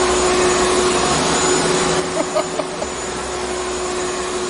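A vacuum cleaner runs with a steady high-pitched whine and airy roar. Its motor note shifts halfway through, with a few faint clicks.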